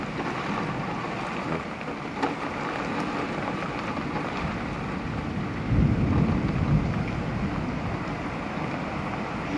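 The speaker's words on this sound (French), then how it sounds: "Vous entendez le tonnerre." A summer thunderstorm in northern France brings a steady roar of heavy rain and wind, with a deep rumble of thunder swelling near the middle.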